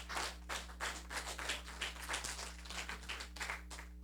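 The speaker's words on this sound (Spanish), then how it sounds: "Vamos a darle, varones, un aplauso a las buenas suegras." Scattered applause from a church congregation, with individual handclaps in a loose rhythm. The clapping is fairly faint over a steady low electrical hum.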